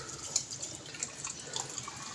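Water trickles and drips into a cooking pot on a home stove, a steady faint splashing with small irregular droplet sounds and no talk.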